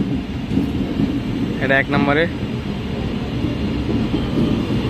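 A train engine pulls into a station platform with a low, constant rumble and a short horn blast in the middle. A person speaks briefly over the noise.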